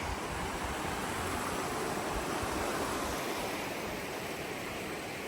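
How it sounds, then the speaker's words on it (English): The Sacramento River flows near the I-5 highway, a constant, even rushing wash of water noise that fills the whole stretch without a break. "Sacramento River."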